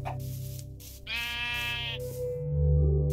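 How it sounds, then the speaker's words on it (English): Sheep in Minecraft bleating, a wavering, nasal baa repeated a few times close by, alongside steady game background sounds and a low hum at the end. "Sheep went this way."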